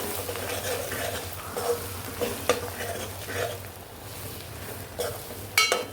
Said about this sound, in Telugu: చూడండి అల్లం వెల్లుల్లి పేస్ట్ వేస్తే ఎలాగా మొత్తం పొంగిపోతుంది.